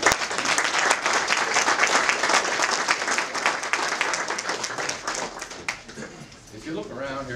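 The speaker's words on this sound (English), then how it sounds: "So let's give these guys a round of applause." A crowd gathered at a fire company truck housing event claps in sustained, dense applause, loud and close, fading toward the end as a voice begins speaking.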